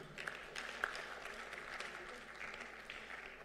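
Applause from the audience at the Africa Manufacturing Investment Forum 2025, with steady hand clapping that sounds distant and faint and continues without a break for a few seconds.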